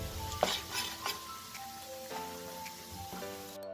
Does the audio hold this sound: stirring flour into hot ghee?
yes